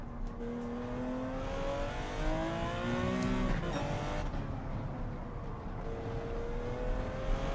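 A race car engine in Gran Turismo 7 on a wet track holds a rising whine, then drops sharply with a quick downshift blip into second gear before pulling again, steady and close throughout.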